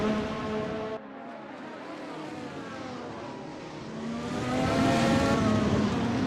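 Race cars from a racing video game circuit at Interlagos roar steadily, engines whining through rising and falling gears as cars run close together, with a brief dip before the tone climbs loud again near the end.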